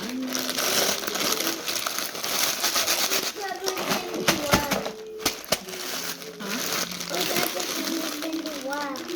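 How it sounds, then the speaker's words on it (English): Garlic butter croutons crumpled into crumbs by hand, giving close crinkling and crunching bursts while people talk and a voice is heard over it. "All you're going to do is crumple them up."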